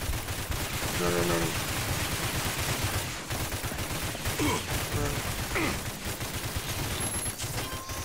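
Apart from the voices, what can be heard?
gunfire hitting the player in the video game RAGE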